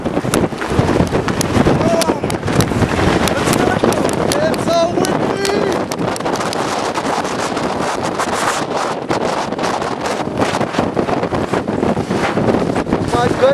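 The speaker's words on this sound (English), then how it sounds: "It is so windy." Strong wind buffeting the microphone on a mountain peak at 12,840 feet, loud continuous roaring gusts throughout, with people talking under the noise.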